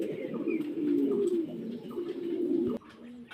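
Pigeons coo in a low, throaty, rolling murmur, several birds close by, steady for about three seconds before the calls drop off.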